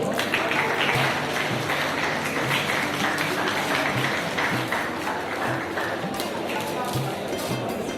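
Audience applause fills a school hall during a state-level science exhibition at KLM International School in Pathankot, a dense and steady clatter of clapping that carries evenly through the stretch.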